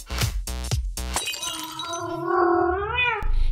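A house cat lets out a long, loud, wavering meow close by, rising and bending in pitch for about two seconds, following a few sharp knocking thumps at the start.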